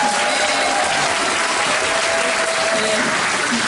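An audience at a welfare-themed talk concert in the National Assembly Members' Office Building applauds Moon Jae-in with loud, dense, sustained clapping that fills the hall without a break.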